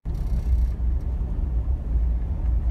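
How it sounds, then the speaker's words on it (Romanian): A single car passes close by on a desert road near Boulder City and Nelson toward Lake Mojave, Nevada, a steady loud low rumble and tire roar with no talking. "A trecut o mașină lângă noi."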